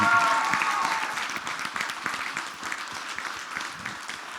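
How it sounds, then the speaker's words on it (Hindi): An audience at a film trailer launch event applauds, dense clapping loud at first and easing slightly yet continuing throughout the few seconds, with no talk over it. "इनके लिए ताली बजाइए"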